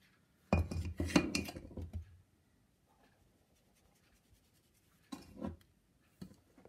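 Flour is tipped into a bowl of bread dough with a burst of close rustling and clinking against the bowl, then quiet, then two shorter scrapes and taps.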